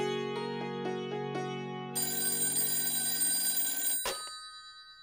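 A telephone ringtone sounds as a call is placed, a few short repeated electronic chimes followed by a sustained bright ringing tone that ends with a click, clear and close with no talk.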